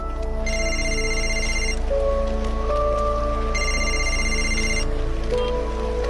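An electronic phone ring sounds in two bursts with a pause between, over a steady low hum and soft background patter.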